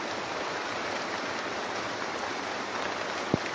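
Heavy rain pours steadily in a rural outdoor spot, a dense, even hiss close around with one sharp knock near the end and no talking.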